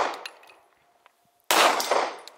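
A bullet strikes a round steel target plate at IDPA shooting practice with a single sharp, loud metallic clang that rings and fades, following a quieter ringing decay from an earlier hit.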